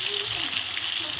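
Potatoes fry in a pan with a soft steady sizzle, a short close crackling hiss with a faint background hum.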